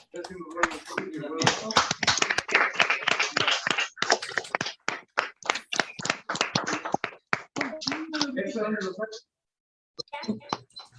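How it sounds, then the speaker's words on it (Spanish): Clapping in tribute to Dr. María Magdalena Vila Domínguez during an official session on political violence proceedings: a sparse, distinct patter of hands from a small group, close and fairly soft, mixed with talk, fading and stopping near the end. "Le solicito le brindemos a la distinguida y a la distancia un fuerte aplauso"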